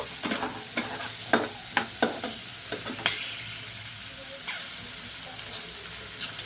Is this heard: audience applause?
no